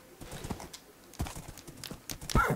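Horse hooves in a video game clip-clop in quick, uneven steps, close and fairly clear, with a louder burst near the end.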